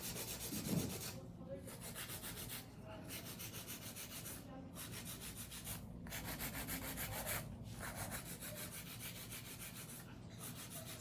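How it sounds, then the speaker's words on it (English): Acrylic nails being filed: steady, close-up scratchy rubbing strokes in a regular back-and-forth rhythm that runs continuously throughout. "So just be careful when you're filing."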